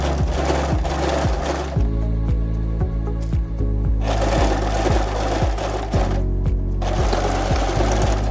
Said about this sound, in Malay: turunkan tapak dan kita sambung jahitan tadi